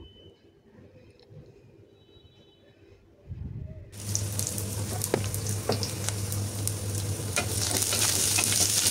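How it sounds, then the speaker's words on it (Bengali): Finely chopped onion and garlic hit hot oil after a quiet start, breaking into loud, continuous sizzling with stirring scrapes that builds steadily toward the end. "একটু ভেজে অ্যারোমা বের হলে দিয়ে দিচ্ছি কুচি কুচি করে কাটা পেঁয়াজ আর রসুন"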